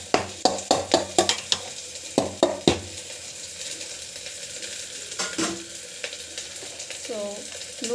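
Chana dal being sautéed in a pan while preparing a simple pregnancy-diet recipe, heard as a run of sharp clattering stirs and scrapes near the start, then lighter sizzling and occasional utensil knocks.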